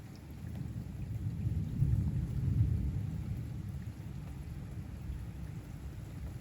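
Severe night-time thunderstorm with penny-size hail: a continuous low rumble of thunder swells and fades over steady rain, with no voices.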